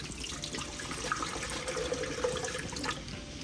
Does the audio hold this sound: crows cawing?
no